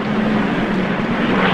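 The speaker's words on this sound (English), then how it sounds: "Hey, look! Airplane!" A loud, steady engine roar fills the air, like aircraft flying close overhead in a 1950s film scene set in enemy territory, a dense continuous drone with a low hum and no voices.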